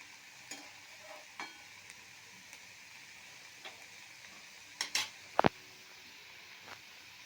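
Ghetkol paste fries in a kadai as it is spread around, giving a faint, soft sizzle broken by scattered light scrapes and clicks, with a sharper scrape near the end and no voices.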